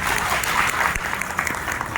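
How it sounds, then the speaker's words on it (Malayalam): An audience at a makeup artist class in Thrissur gives a short burst of dense clapping, steady and fairly loud across the whole moment, with no distinct voices. "അവർക്കായിരിക്കണം ആദ്യത്തെ കൈയടി കൊടുത്ത ഒരു കൈയടി."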